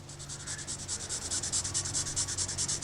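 A Super Duty Sharpie marker rubbed back and forth to fill in a metal edge before beveling, a quick steady series of close, dry scratchy strokes in even rhythm.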